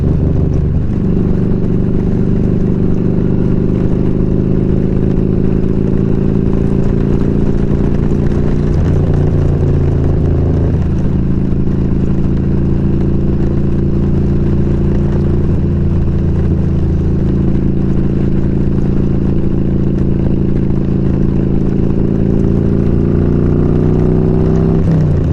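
An old motorcycle engine runs loud and close for the whole stretch, a steady throbbing idle with a few shifts in pitch as it is revved, no voices.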